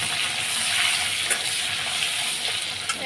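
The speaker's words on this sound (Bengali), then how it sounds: "আলুটা আগে লাল লাল করে একটু ভেজে নেবো" Potatoes frying in hot oil in a pan, a steady loud bright sizzle running continuously throughout with a couple of brief crackles.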